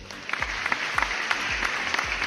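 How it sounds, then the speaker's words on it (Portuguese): Brief applause from a small group, scattered claps in a soft rhythmic patter, moderately distant and fairly quiet, with no voices. "Aplausos, por favor."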